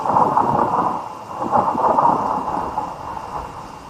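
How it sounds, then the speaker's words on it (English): Thunder rolls through the mountains near a summit, low rumbling surges that swell and fade over a steady background, with no voices. "The thunder?"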